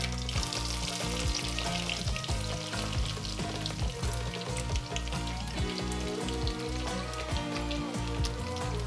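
Garlic and panch phoron, a blend of five seeds, fry in hot oil with a loud, dense crackling sizzle. The spitting and popping continues without a break and close up, and no one speaks.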